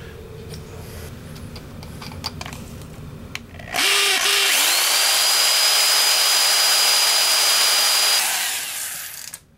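A power drill bores a pilot hole into the rivet of a Hot Wheels 1965 Mustang die-cast car, a loud steady whine starting abruptly and running about five seconds before trailing off, preceded by quieter workshop noise.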